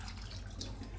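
Water pours into simmering misal gravy, a brief close rush of liquid with a soft splashing texture, heard alone.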